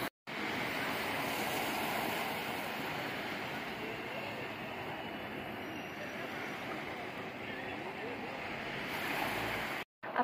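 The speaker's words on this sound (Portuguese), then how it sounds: "O mar tá bem mansinho aqui, ó." Gentle surf at Praia da Tabatinga, a deserted beach with calm, crystal-clear water, forms a steady, broad wash of waves that runs continuously and fairly loud from start to end.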